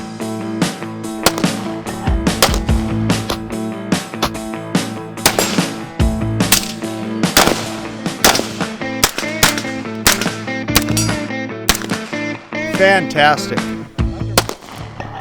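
.40 caliber handgun fired at a shooting range, a rapid series of sharp, loud gunshots coming close together throughout, over music, with one brief spoken remark.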